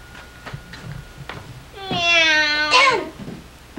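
A human voice imitates a cat with one drawn-out, wavering meow, loud and close, after a few soft scattered knocks and rustles.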